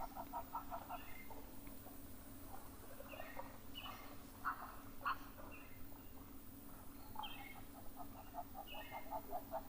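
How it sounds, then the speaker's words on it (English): Repeated sharp metallic tink calls from several blacksmith lapwings at a waterhole, clicking in irregular bursts over a steady low background hum, moderately distant. "the blacksmith lapwings. It comes from that noise that they make."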